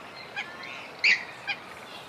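Three short, nasal calls from a purple swamphen ring out over quiet background hiss, the middle one loudest.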